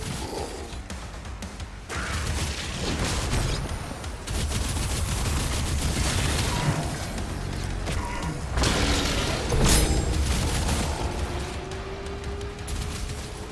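Gunfire and explosive booms from the shooter game Doom: The Dark Ages on PS5 Pro, a dense, continuous barrage of loud blasts and crashes with sustained rumble and no speech.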